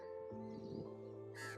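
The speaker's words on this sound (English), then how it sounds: "my silent reverie is interrupted by a lively magpie" A lively magpie calls with a short harsh chatter, faint and brief, over a steady low background hum.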